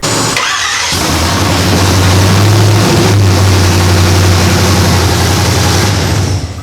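A V8 engine in a 1958 Chevy Cameo truck, running straight off the headers, cranks and fires up with a loud, deep rumble, then idles steadily and throatily close by.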